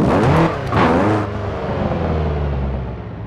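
A Subaru WRX in Forza Motorsport 7 on the Nordschleife, its engine revving hard and climbing in pitch, then settling into a steady loud drone after a brief shift, close and alone without voices.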